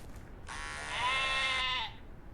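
A sheep in the Ranch Simulator video game lets out a single harmonic, wavering bleat lasting over a second, clear and fairly close with no talk over it.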